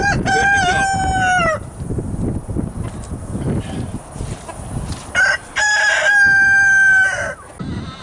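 Backyard chickens clucking while a rooster crows loudly twice, a long cock-a-doodle-doo at the start and another a few seconds later, with scratchy clucks and farm noise in between.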